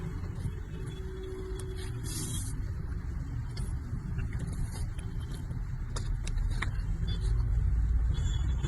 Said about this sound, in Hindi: अब पहली ड्राइव होने वाली है हमारी न्यू टायर्स के साथ।